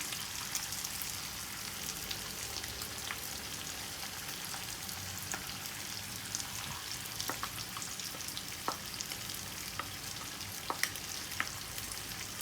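Beef masala fries in a pan as onions and tomato puree go in, a soft, even sizzle with scattered crackles and light scraping from stirring, fairly quiet throughout and without speech.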